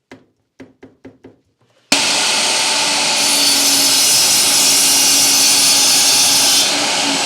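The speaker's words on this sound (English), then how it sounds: "So I'm just changing my miter saw to 50 degrees." A miter saw set to a 50-degree angle cuts wood for a DIY Christmas tree. A few light taps come first, then the motor starts abruptly into a loud, steady whine that runs for about five seconds before easing off.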